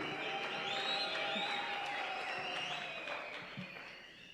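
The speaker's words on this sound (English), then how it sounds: "Let's clap our hands as we welcome our brethren." A church youth-conference audience claps in steady, sustained applause, a dense crowd sound that stays loud and slowly eases off toward the end.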